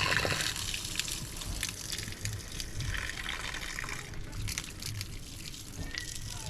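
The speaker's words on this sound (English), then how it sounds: "We wash the rice till we see the color of water look like water." Rice is washed in water in a pot during outdoor Jamaican cooking: steady sloshing and pouring water, close and continuous, with a faint outdoor background.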